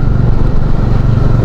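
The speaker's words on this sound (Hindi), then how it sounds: "चलो एक स्कूटर दिखा मेरे को आगे जाते हुए" A scooter rides ahead on a mountain road through forest on the way to Kedarnath–Badrinath, its engine a steady, fairly loud low drone that holds without a break and with no talk.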